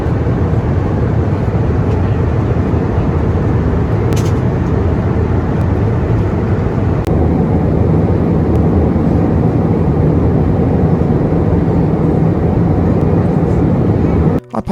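Steady, loud low-frequency roar of an Airbus A320 cabin at 35,000 feet on a Jetstar flight, continuous broadband engine and airflow rumble with no breaks, heard from a seat inside.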